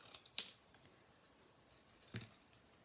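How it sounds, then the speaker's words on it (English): Two quiet, crisp snips of scissors cutting through cured soft sculpture material, spaced about two seconds apart in a hushed room. "And now I'm going to go ahead and cut this off."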